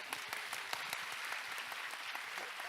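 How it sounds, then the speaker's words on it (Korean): An audience at a church lay members' spiritual retreat applauds with a dense, even wash of many hands clapping, heard from a distance and fairly quiet throughout. "그렇게 해주신 모든 분들에게 감사드리면서 박수 한번 부탁드립니다"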